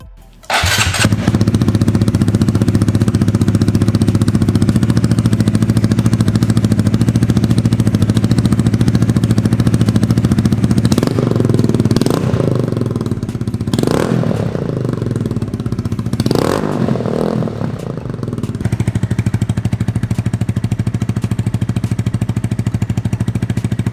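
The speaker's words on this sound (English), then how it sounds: "I'm gonna start the bike up, show you the exhaust, and then that's it." A 2019 Honda Grom motorcycle with a cheap aftermarket exhaust starts up and settles into a loud, steady close idle, with several sharp throttle blips rising and falling midway before idling again.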